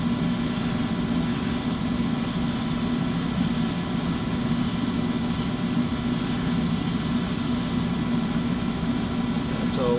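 An airbrush or spray can lays a final paint coat over the large hull panels of a Chibi-Maru IJN Yamato egg-ship model, a steady continuous hiss with short breaks where the spray stops and restarts, close and alone.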